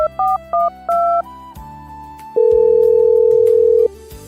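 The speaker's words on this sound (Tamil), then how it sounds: "தோ போன் பண்றேன்." A telephone handset dialing reception: short beeping tones, then a gap, then a long steady ringing tone that cuts off abruptly, all loud and close.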